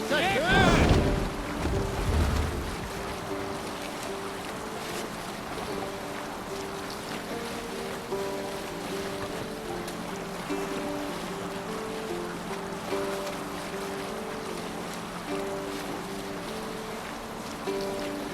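A Viking longship under sail on open sea in Assassin's Creed Valhalla, with a continuous wash of waves and wind after a brief loud burst at the start, and a soft musical drone underneath.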